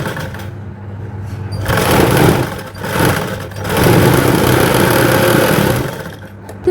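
A sewing machine runs in steady bursts while stitching fabric for a princess-cut blouse, its close mechanical whir starting and stopping with short pauses between runs, and no one speaking.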